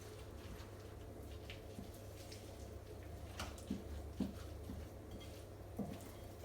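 Spoon stirring spinach and feta pie filling in a bowl: faint, soft squishing scrapes with a few light clinks against the bowl, quiet over a steady background hum.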